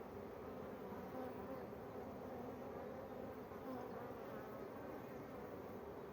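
Honeybees buzz steadily around an open hive during an inspection of brood frames, a dense continuous hum with no talk.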